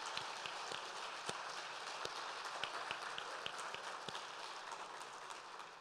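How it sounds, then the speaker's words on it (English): Audience applause at a competition law, economics and policy conference, a steady dense patter of many hands clapping throughout, fairly soft and distant-sounding. "a round of applause, please?"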